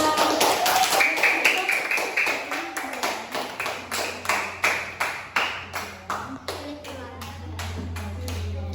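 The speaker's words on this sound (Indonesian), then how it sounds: "kita beri tepuk tangan dulu kelompok juara" A class of primary school children claps in a steady, rhythmic burst of applause that thins out toward the end, close by in a room.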